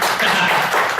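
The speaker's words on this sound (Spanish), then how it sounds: "Démosle un aplauso," A church congregation breaks into applause, a brief, dense burst of many hands clapping together, close and loud, with no voices standing out.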